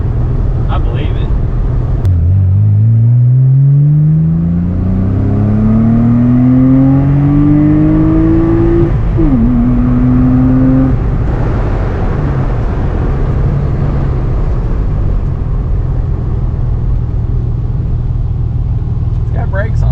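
A 1997 Porsche Boxster engine revs up through the gears while driving, climbing in pitch, dropping briefly at a shift, then rising again before settling into a steady, loud road rumble.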